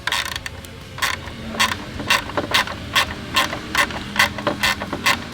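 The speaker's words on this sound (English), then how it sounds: "both of those are T20 Torx. So all we're going to do, just barely loosen them." A tool works T20 Torx screws loose behind the grille of an Ineos Grenadier, making a steady series of close, clicking ratchet-like ticks in a regular rhythm.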